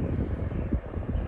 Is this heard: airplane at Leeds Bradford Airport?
yes